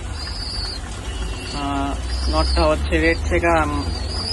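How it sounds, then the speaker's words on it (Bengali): Racing pigeons cooing in a loft, soft low coos behind someone talking close, over steady background noise. "চলুন কবুতরগুলো দেখানো যাক"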